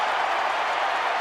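A boxing arena crowd applauds in a standing ovation, a dense, steady wash of clapping filling the hall without pause.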